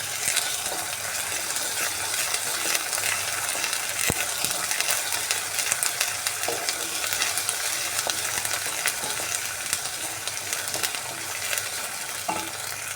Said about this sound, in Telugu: అల్లం పేస్ట్ వేసుకుందాము బాగా ఫ్రై చేసుకుందాము